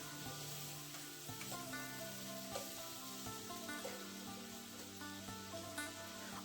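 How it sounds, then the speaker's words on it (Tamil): Tomatoes sautéing with onions on a gas stove, stirred with a ladle: a faint, even sizzle running throughout with a few soft stirring touches, quiet and distant, no speech, and a steady tonal hum beneath. "தக்காளி போட்டு திரும்ப ஒரு கரண்டி வச்சு நல்லா வதக்கி வச்சுங்க"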